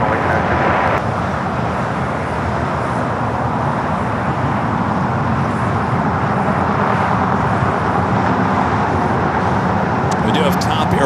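An Airbus A321 airliner takes off from runway 25 left at LAX, its engines giving a loud, continuous broadband roar that holds steady under nearby traffic noise.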